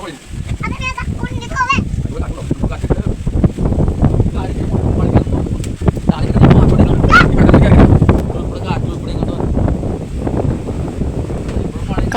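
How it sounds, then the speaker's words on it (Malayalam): Strong wind roars and buffets steadily for the whole stretch, loud and close, with a voice heard briefly near the start. "ഞാൻ പറയുമ്പോൾ തന്നെ കാറ്റിൻ്റെ ശബ്ദമാണ് എന്നെക്കാട്ടും മുമ്പ് നിൽക്കുന്നത്"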